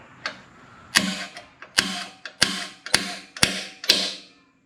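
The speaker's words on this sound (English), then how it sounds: "Just punch a hole in the middle of it." A tool punches into spot welds on a 2012 Lexus ISF car body, giving about seven sharp metallic strikes with short ringing tails in a steady rhythm, loud and close with no talk.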